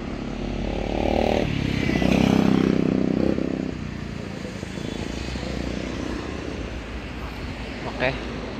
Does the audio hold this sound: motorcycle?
yes